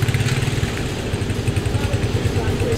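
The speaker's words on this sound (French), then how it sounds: "Moto, moto!" A motorcycle engine runs close by with a steady, throbbing low rumble that pulses throughout, while voices talk over it.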